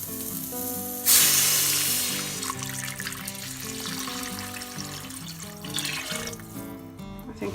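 Water poured into a hot pot of beetroot soup with potato sets off a loud burst of sizzling that gradually settles into a softer bubbling hiss, heard up close over faint background music.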